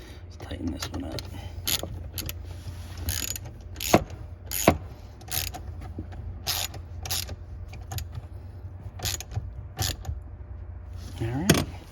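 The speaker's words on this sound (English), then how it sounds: "Let's tighten this one up." A hand tool ratchets in a string of quick, close clicks while tightening a fastener on the HVAC blend door actuator of a 2005-2009 Ford Mustang, with faint background hum and someone speaking briefly.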